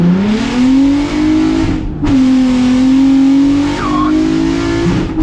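A van fitted with a Golf R engine accelerates hard, a loud close engine roar climbing in pitch through one gear, a brief shift gap, then another rising pull with tyre noise.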